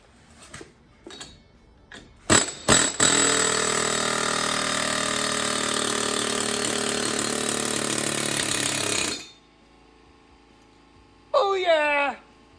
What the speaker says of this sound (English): we're hoping that the old air chisel is going to work.